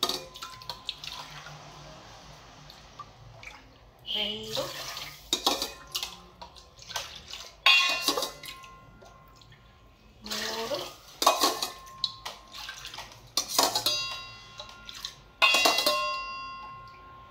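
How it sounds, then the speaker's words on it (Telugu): Water is poured from cups into a pan of sugar to start rasgulla syrup in a home kitchen, with repeated splashy pours, clinks of a metal pan and utensils, and someone speaking between pours. "5 కప్పులు వాటర్ వేస్తాను"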